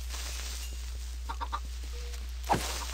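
A few short clucks from a chicken in Minecraft, small bursts in the middle and one sharper squawk near the end, over a steady low background hum, no speech.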